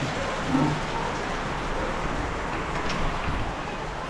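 Steady, dense rain pours down in a constant hiss with a low rumble underneath, unbroken and fairly loud throughout.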